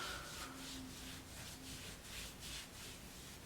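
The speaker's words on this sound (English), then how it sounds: "I hope you guys are watching me exfoliate" Skin on the face is rubbed with an alpha hydroxy acid scrub, making soft, faint, close-up rhythmic brushing strokes repeated about six times.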